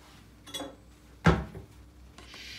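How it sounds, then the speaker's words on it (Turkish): Several tablespoons of thick tahini dropped into a blender jar, giving soft spoon taps against the jar and one louder clunk of utensil on glass, close up and without talk. "5 yemek kaşığı da tahin koyacağız."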